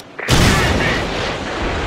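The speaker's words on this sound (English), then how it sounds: "Predator missile ready." A Predator missile strike in Modern Warfare 3 lands as a sudden loud boom after a brief quiet start, followed by a sustained roaring rumble and debris noise.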